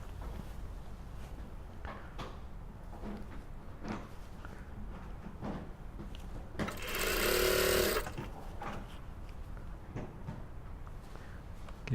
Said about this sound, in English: sewing along this top edge at 1 centimetre, just making sure that the raw edges match